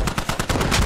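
A rocket launcher fires in the military shooter Squad, heard as a rapid string of sharp, loud cracks in quick succession that blend into a dense burst at the end.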